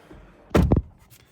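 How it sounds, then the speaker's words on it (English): A 2025 Nissan Juke's car doors are shut, making two quick solid thuds in close succession, heard close-up against a quiet background. "And close the doors."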